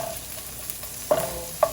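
Chopped onion goes into a hot pan while stuffed aloo tikki filling is prepared, with a low steady sizzle and a couple of sharp clatters as it drops in and is stirred, close up.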